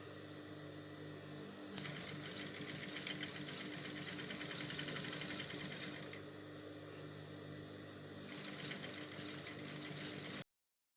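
A sewing machine top stitches the neck facing of an ankara umbrella flare dress in two steady bursts of rapid, even stitching with a short pause between, close by and fairly quiet.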